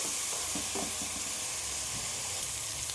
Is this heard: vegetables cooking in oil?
yes